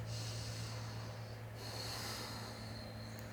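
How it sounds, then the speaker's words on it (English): A single long, steady breath taken while holding a yoga pose with one leg extended, close and soft over a faint constant background hum. "Take a breath"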